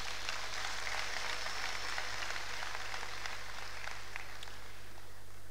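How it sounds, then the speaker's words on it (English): Sustained applause from an audience in a hall at a Nigerian Bar Association showcase session, a steady, even wash of clapping held at moderate volume throughout without pause. "I think they deserve a round of applause from the House"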